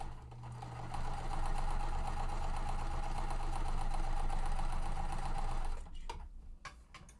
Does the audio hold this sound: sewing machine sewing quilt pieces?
yes